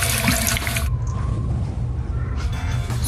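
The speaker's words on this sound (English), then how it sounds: "Put water on her face." Water pours from a tap into a sink while a girl's face is washed, a loud broadband gush for the first second, then quieter running and splashing that swells again near the end.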